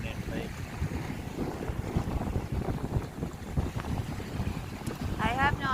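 Strong wind gusting on a beach, a heavy low rumble buffeting the microphone continuously, with a brief voice-like tone near the end.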